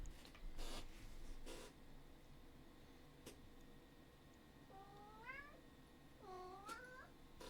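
A pet cat meows twice near the end, rising and bending calls over a dull indoor room hum, after a few brief knocks and rustles early on.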